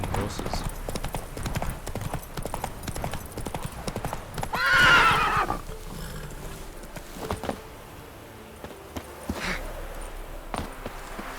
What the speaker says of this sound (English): Abandoned horses.